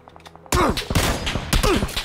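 Gunfire in a battle royale video game, with a sharp burst of shots striking the player followed by a few more cracks, close and loud, as a tense voice speaks over it.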